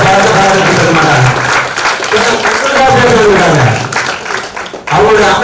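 An audience applauds loudly and continuously for a doctor on stage, while a voice speaks or calls out over the clapping.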